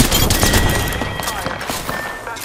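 Video game gunfire pours in as the player takes fire, a loud crackling barrage of shots that thins gradually, with scattered individual cracks and faint voices underneath.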